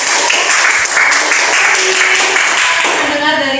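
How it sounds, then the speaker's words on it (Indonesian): Applause from a classroom audience for a student group's presentation, a steady dense wash of clapping that holds throughout at close range, with a voice briefly audible near the end. "kita berikan aplaus untuk"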